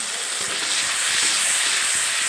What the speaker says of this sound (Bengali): এখন এর মধ্যে জলে গুলে রাখা মশলার মিশ্রণটা দিয়ে দিলাম